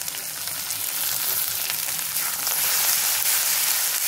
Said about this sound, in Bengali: এগুলোকে ঠিক এইভাবে ভাজা ভাজা করে নিতে হবে।